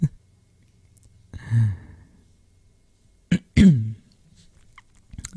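A slow, breathy exhale from a person lying close with their head on someone's chest under blankets, heard as soft airy breaths near the mic in an otherwise quiet space.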